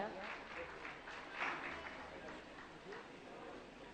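An audience at a Jain religious gathering claps to honor top-scoring students; fairly quiet, steady applause with a brief swell partway through, heard at a distance.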